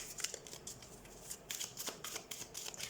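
Tarot cards are shuffled close up in a quiet room, giving quick, soft riffling flutters in short repeated bursts.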